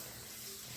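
Hot water running from a tap into a tank or basin, a brief steady gush heard close and fairly quiet, with no one speaking.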